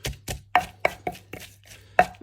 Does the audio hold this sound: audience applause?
no